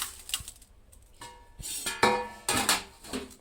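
Byadgi chillies are roasted in a pan with a little oil at home, with intermittent metallic clinks and clatters of stirring and utensils against the pan, close and fairly crisp, without speech.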